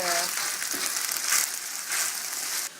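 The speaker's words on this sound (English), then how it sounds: "When you've chopped up all your onion, pop it in the pan with the mince and give it a stir." Chopped onion and mince fry in a pan for lasagne, giving a close, bright sizzle broken by a few stirring knocks and shuffles, with the hiss holding steady throughout.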